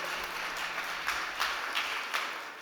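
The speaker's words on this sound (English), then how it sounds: "Can we have a big round of applause for Adrián Valdelmillos from Ultrafex?" Audience applause after a startup pitch at an industry competition event, a moderate spread of clapping heard from a distance with a few sharper bursts, no talking over it.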